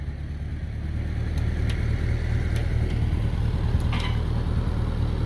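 A 1956 Ferguson TO35 tractor engine runs steadily while backing up, a continuous low rumble close by with a few faint clinks over it.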